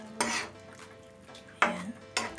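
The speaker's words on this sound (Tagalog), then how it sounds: "Haluin lang po natin." Utensil scraping and clinking through marinated squid in a cooking pan, with three loud bursts of stirring separated by quieter stretches, close and alone.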